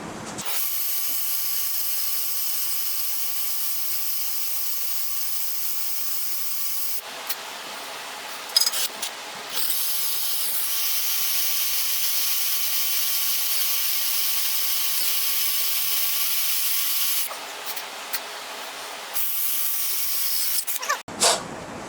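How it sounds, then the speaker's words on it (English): A dull drill bit bores a hole into a freeze-cracked 400 engine block, giving a steady grinding whine in two long runs separated by brief pauses and clunks, with no talking. "Man, could that drill bit be any duller?"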